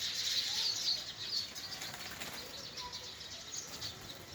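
A flock of small birds, likely sparrows, takes off in a village, a soft fluttering rush of wingbeats loudest in the first second, fading under light chirping and outdoor background noise.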